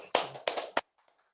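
Short burst of applause from an audience at a national entrepreneurship competition final, a few loud clustered claps in three quick bursts, then fading to near silence.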